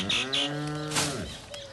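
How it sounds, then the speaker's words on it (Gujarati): A cow or buffalo on a farm lets out one long, deep moo that rises and falls, fairly close, with faint bird chirps behind it. "ગાયો ભેંસોને એવું લાગ્યું કે ચાર લઈને આવ્યા છે એટલે રેકે છે."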